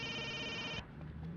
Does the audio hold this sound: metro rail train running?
no